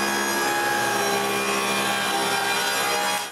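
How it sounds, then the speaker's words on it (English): A saw blade cuts a groove in wooden rails and stiles for a bathroom vanity, a loud continuous high whine with tonal motor hum, close and unbroken until it fades at the end, with no voices. "I can cut a groove for all the side rails and stiles"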